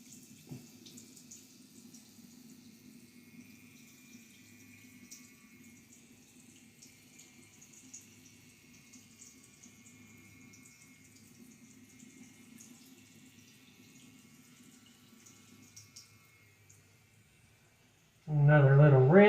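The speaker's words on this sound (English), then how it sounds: "A little rinse." A faint low hum fills a quiet bathroom for most of the stretch, then a water tap bursts on loudly near the end, running to rinse a Gillette Fusion razor.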